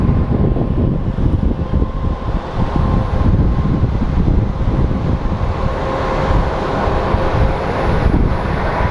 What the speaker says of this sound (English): we're going to be getting another USA Air Force tanker